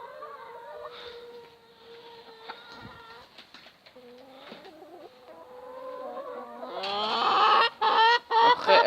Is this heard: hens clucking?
yes